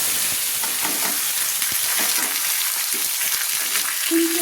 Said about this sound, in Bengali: এবার পেঁয়াজগুলোকে আমি লাল লাল করে ভেজে নিচ্ছি।